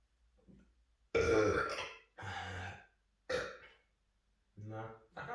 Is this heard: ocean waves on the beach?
no